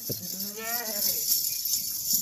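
Goats of the Makhi Cheeni breed at a farm bleating, a couple of wavering calls near the start over steady background noise, with no talk.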